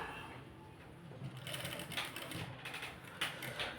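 A sewing machine stitching a blouse sleeve runs in quiet, rapid mechanical bursts, its needle chatter starting and stopping repeatedly at close range.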